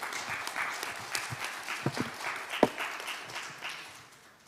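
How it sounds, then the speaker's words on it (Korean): Audience applause at the 2022 Jeju Forum welcoming a speaker, a steady wash of many hands clapping at moderate distance that thins and fades out toward the end, with no talk over it. "큰 박수로 모시겠습니다."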